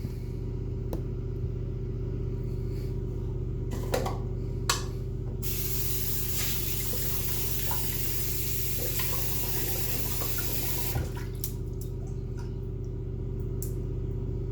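Tap water gushes for several seconds to wet a 26mm Timberwolf shaving brush with a Dogwood handle, a loud hissing spray over a constant low hum, with small clicks and knocks before and after.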